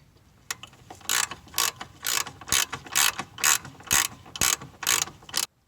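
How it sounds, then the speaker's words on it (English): 18 mm ratcheting wrench working a control arm bolt loose on an E90 BMW M3, a close rhythmic series of about ten clicking ratchet strokes in quick bursts, then stopping. "an 18 millimeter wrench will loosen that bolt up on the other side"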